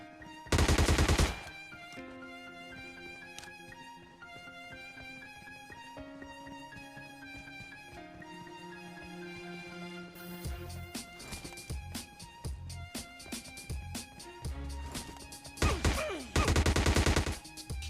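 Gunfire in a battle royale shooter game, with MK14 and S12 guns mentioned: loud bursts of automatic fire open and close the stretch, separated by layered in-game music and sound effects, with scattered footstep-like clicks in the middle.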